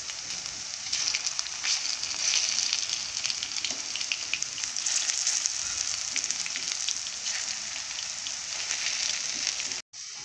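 Spinach fritters (bori) sizzle steadily in hot oil, a dense, close crackling hiss that continues throughout without a break.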